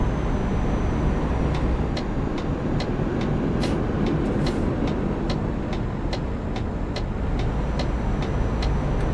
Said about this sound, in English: here comes another one of those trams